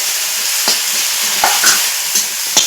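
Ground turmeric, chili powder, onion paste and ginger paste frying in a pan with a steady loud sizzle, broken by several scraping stirs of a spoon, with no voices.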